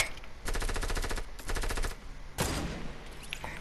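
Automatic weapon fire in the video game Fortnite, three rapid bursts of shots, the last one sharper and louder with a trailing echo, with no talk over it.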